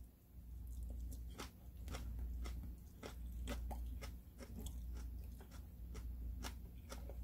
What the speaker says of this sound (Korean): 아삭하게 잘 삶긴 것 같아요. 제가 한번 맛을 볼게요.